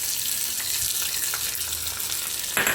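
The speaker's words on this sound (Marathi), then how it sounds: "आता फक्त कढीपत्ता, जिरे, मोहऱ्या ह्याची फोडणी घालायची." Curry leaves, cumin and mustard seeds sizzling in hot oil for a tempering, a loud continuous crackling fry with a sharper burst of spitting at the very end.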